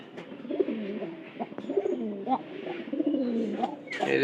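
Pigeons recovering from a cold coo repeatedly in soft, rolling bursts, several birds overlapping at close range with a few brief sharper calls near the end.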